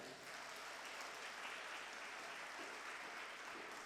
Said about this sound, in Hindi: दिल से जोर से प्रभु के लिए ताली बजाइएगा।